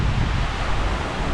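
Hurricane Milton wind gusts rushing in a steady, broadband roar with heavy buffeting against the microphone, loud and unbroken throughout with no talking.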